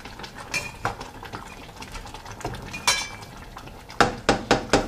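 Daal is stirred in a cooking pot, with metal spoon clinks and scrapes against the pot rim coming in a loose rhythm and ending in a run of sharper, louder knocks near the close.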